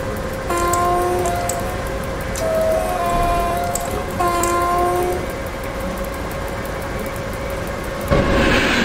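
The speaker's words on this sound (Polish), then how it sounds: "Uwielbiam patrzeć, jak jakiś pociąg tak bardzo szybko gna, a zwłaszcza takie z lokomotywami." An EP09 electric locomotive-hauled train runs by in the MaSzyna train simulator game, with a steady rumble of rolling wheels and several sustained horn blasts.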